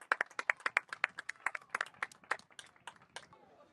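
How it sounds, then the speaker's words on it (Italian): Scattered clapping from a small crowd at an amateur Sicilian football match, a sparse run of distinct, fairly close handclaps that thins out toward the end. "applausi di tutti."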